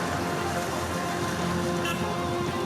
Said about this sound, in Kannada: ಕೊಡಗು ಜಿಲ್ಲೆಯಲ್ಲಿ ಧಾರಾಕಾರ ಮಳೆ ಆಗ್ತಿದೆ.